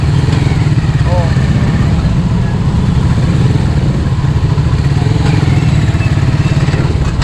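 Motorcycle exhaust noise at a rainy-day public market in Arayat, a loud steady engine drone running throughout with people talking over it.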